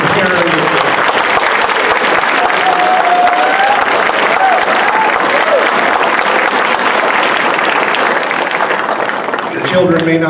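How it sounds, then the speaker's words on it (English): A room full of people at a band fest applauding parents, with dense, loud, sustained clapping that holds steady for about ten seconds before a voice starts speaking at the very end. "A wonderful round of applause for every parent in this room."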